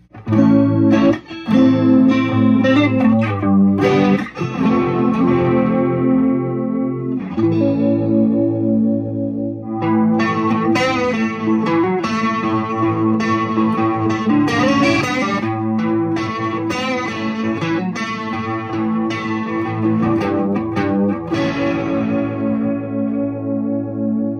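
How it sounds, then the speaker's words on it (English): Clean electric guitar chords and arpeggios, loud and continuous, through the analog chorus of a Line 6 M13 pedal, a lush, shimmering chorus widening and gently wobbling the tone. "This is the analog chorus. It sounds a lot like the CE1."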